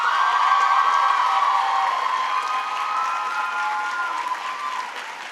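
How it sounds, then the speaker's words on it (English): Applause from the crowd at a Barnard College commencement ceremony, a dense sustained clapping that holds loud and slowly tapers, with a few scattered whoops over it. "so please give them a big round of applause."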